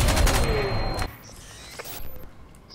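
Gunfire in the video game Crysis 2, with a dense burst of rapid shots for about a second, then quieter scattered thumps and whooshes under faint background noise.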